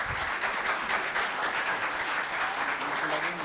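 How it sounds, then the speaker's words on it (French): A school audience claps steadily and densely for a full few seconds, a continuous wash of many hands at moderate loudness, with faint voices mixed in. "On applaudit encore l'école."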